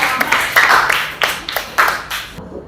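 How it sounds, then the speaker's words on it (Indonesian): A short burst of hand clapping from a small group in a classroom, several uneven claps close by, fading out abruptly at the end. "Tepuk tangan untuk kelompok 1 ya."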